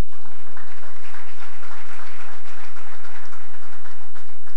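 An audience applauds organisation representatives at a talk on Haitian youth and sovereignty, a loud, sustained, dense clatter of clapping that holds steady throughout without voices.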